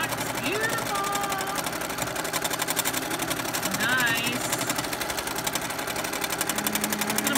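A sewing machine stitches along the edges of a quilt as a child practises, its steady rapid motor hum running continuously and fairly loud under a talking adult's voice.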